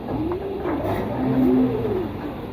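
Pet pigeons coo in soft, rising and falling warbling phrases, close by and repeated, over a steady low rumble of background noise with no talking.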